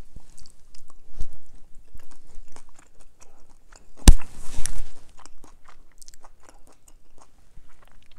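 Someone bites into and chews a piece of pan-fried salmon, producing soft close-up munching and a brief crisp crunch from the fried crust, quiet and wet with no talking.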